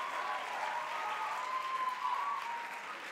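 Audience applause at an amateur evening stage show, a soft, steady wash of clapping heard from a distance, with a faint tonal hum running underneath.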